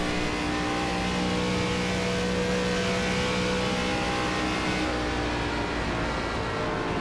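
Race car engine from an ARCA Menards Series stock car at Charlotte in the iRacing video game, a loud, steady high-revving drone holding constant throughout, with no talking.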